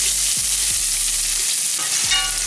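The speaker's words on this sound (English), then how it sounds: "Oil is now hot and I'm going to put one medium onion chopped." Chopped onion frying in hot oil on high heat, a loud, dense, continuous sizzle with a few soft stirring knocks beneath it, close up and with no talking.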